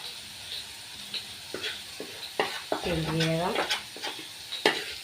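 Chilli, turmeric and coriander powders with chicken masala sizzle in a pan of fried garlic as a spoon scrapes and stirs in repeated strokes; a voice speaks briefly over the frying.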